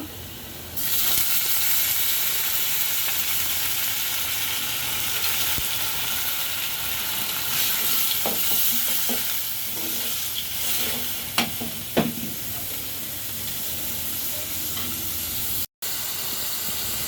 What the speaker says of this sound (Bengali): এখন এই যে ধুয়ে রাখা ডালটা দিয়ে দিব।